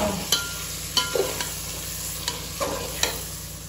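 Paneer dum biryani being stirred in a pot, with a spoon scraping and knocking the pot at irregular intervals over a low, steady sizzle close by.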